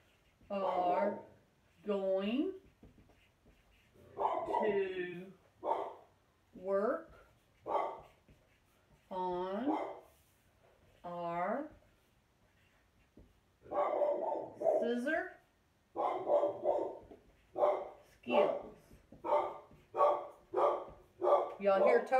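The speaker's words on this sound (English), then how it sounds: "I don't know what he's barking at" A dog barks repeatedly in bursts, sharp and fairly close, with short pauses between volleys and no talking.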